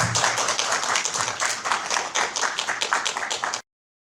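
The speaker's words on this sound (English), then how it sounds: "Let's have a big round of applause." Clapping from a small group of podcast guests and hosts closing out a gaming podcast episode, a dense steady patter of hand claps lasting a few seconds and cutting off abruptly.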